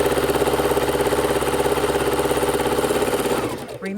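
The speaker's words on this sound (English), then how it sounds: "we're sewing a 1/4 inch or a scant 1/4 inch on either side of that line." A sewing machine stitching quilt squares for half-square triangles: a loud, fast, even mechanical chatter heard up close, running steadily and then slowing to a stop at the end.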